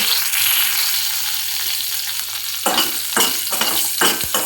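Cumin, mustard seeds, dried red chillies and curry leaves sizzle steadily in hot oil as a tempering for peanut chutney, with scraping stirs breaking in over the latter half.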